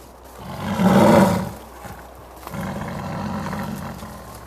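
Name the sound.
tiger roaring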